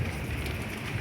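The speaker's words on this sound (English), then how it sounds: "it's raining really hard. I think you guys can hear it." Heavy rain comes down hard during a stormy, windy spell, a brief burst of dense, rumbling downpour noise that sounds close and constant throughout.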